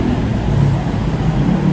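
Steady low roadway rumble from vehicles passing a school, continuous and fairly loud throughout with no clear breaks between cars.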